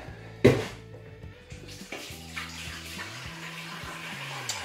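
Water gushes steadily from a tap into a big pot holding a whole pig's head, filling it to blanch the head, with a low tonal hum underneath and a brief splash near the start.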